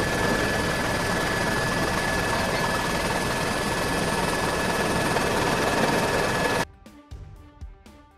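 A helicopter flying over a town while dropping coupon leaflets makes a loud, steady rotor and engine roar that cuts off abruptly near the end, leaving faint scattered sounds.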